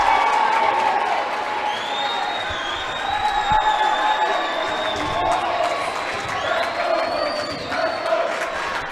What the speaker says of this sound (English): Crowd trying to get the side out.